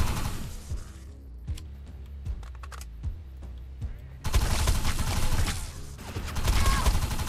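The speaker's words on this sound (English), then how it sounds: "Those guns are gonna keep firing until we shut down the generator" Automated guns in the Defiance video game fire in sustained rapid bursts, sharp cracks at first that build into a dense, loud barrage of continuous gunfire.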